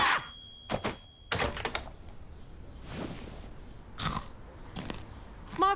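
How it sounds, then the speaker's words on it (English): Crinkle cut chips crunch in a series of sharp, close bites and chews, several loud crackling bursts separated by short pauses, with no talking over them. "Microwave chips with maximum crunch"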